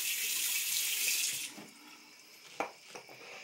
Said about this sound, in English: Okay, now we rinse.